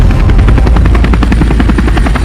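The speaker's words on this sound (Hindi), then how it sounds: "अरे ये चिंटुआ तो हम दोनों के खोपड़ी पर हेलीकॉप्टर उड़ा रहा है।" Cartoon helicopter in flight, a loud, close, continuous rotor chop beating in a fast steady rhythm with a constant buzzing engine drone, with no voices.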